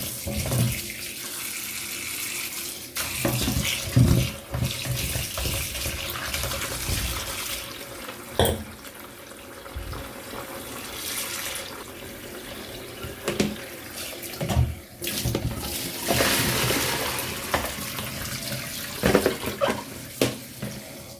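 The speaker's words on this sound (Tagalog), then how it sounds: "Hugasan na natin to" Tap water runs into a kitchen sink while a cucumber is washed by hand for a pork and carrot soup, a continuous splashing stream with brief clatters and rubbing, close and steady, no one talking.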